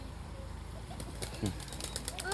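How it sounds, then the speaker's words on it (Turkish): A quick burst of wings flapping as birds take off at a beach resort zoo, faint fluttering over quiet outdoor background. "Aa, kuşlar uçtu."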